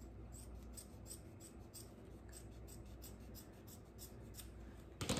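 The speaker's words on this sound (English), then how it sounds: "go down with your scissors" Quiet, rhythmic snipping of scissors through paper, a run of short crisp cuts, ending with a louder rustle.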